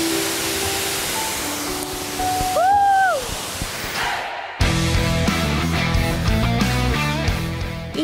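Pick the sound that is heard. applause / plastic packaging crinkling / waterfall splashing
waterfall splashing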